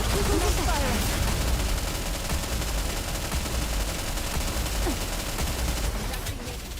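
Rapid automatic gunfire from the player's squad in the video game Nikke, a dense continuous barrage of shots at steady loudness that thins out near the end.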